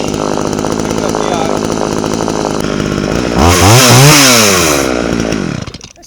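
A McCulloch Mac 3200 32cc chainsaw engine runs loud and close, idling with a steady buzzing rattle, then revving up and back down in a rising and falling whine before dropping off.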